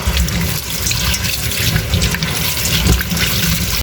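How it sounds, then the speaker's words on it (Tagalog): Tap water runs steadily over frozen beef skin being rinsed in a sink, a continuous close splashing hiss with no talk over it. "mas sigurado pong hugasan natin para mawala yung kanyang pagka-frozen"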